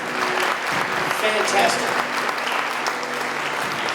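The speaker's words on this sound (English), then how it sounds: "Could we we get another round of applause for all of our students?" Audience applause for students at the 2020 Young Citizens Awards ceremony, steady clapping from a crowd lasting throughout, with a brief spoken remark over it.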